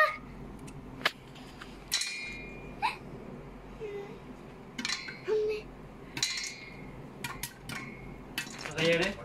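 Scattered sharp pops crack inside a covered pot at an irregular, quickening pace, close by, with faint voices and background noise between them.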